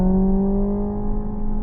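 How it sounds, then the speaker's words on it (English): A synthetic engine sound from the N Active Sound system inside a 2025 Hyundai Ioniq 5N electric hatchback, a steady, loud, tonal droning hum holding a constant pitch, with no talk. "this N active sound. You can go into the settings and have it sound like an engine"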